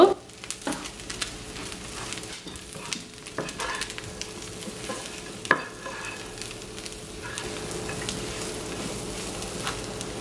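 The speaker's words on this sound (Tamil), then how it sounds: "பொறிச்சு வச்ச கத்திரிக்காவை இப்போ இதுக்குள்ள போடுங்க இப்போ இதற்காக மிக்ஸ் பண்ணி விடுங்க" Fried brinjal tossed into sautéed onions in a pan for a brinjal and Maldive fish sambal, with a constant sizzle under irregular spoon scrapes and knocks close by, no voices.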